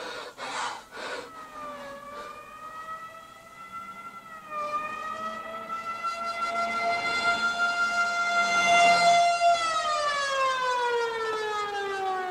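An ambulance siren wails with a rising and falling tone that swells louder and closer over several seconds, then holds steady, with brief breathy sounds near the start.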